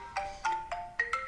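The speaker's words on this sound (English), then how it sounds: "sorry about the phone ringing" A phone ringtone plays a quiet melodic pattern of short tonal notes in quick succession, fairly faint and alone with no talking.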